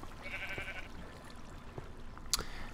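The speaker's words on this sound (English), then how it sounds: "they will then float down here in a huge pack of sheep." Sheep bleating in Minecraft, a brief bleat early on over a busy game background with a sharp click later.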